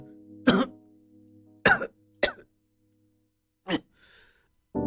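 A horror-story cough effect for someone coughing up blood: five separate harsh coughing bursts spaced out over a few seconds, close and clear against near silence, with a faint low hum at the start.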